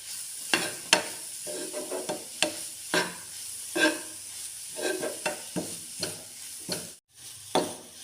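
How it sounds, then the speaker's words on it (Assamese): Grated coconut frying in a pan for coconut laddoos, a steady soft sizzle broken by repeated scraping stirs at an irregular rhythm, close and fairly loud with no talking. "নাৰিকলখিনি ভাজি আছোঁ"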